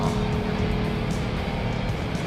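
A Jeep Gladiator JT fitted with Ohlins shocks accelerates at about 130 km/h on a toll road, giving a steady in-cabin engine drone with a faint tonal whine over constant road roar.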